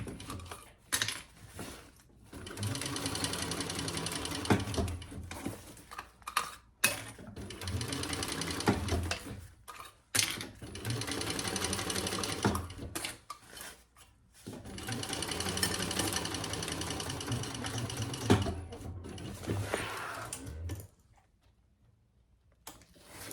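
A sewing machine stitches a crossbody bag in several long, steady runs of rapid mechanical whirring, close and fairly loud, separated by brief pauses and small clicks before it goes quiet at the end.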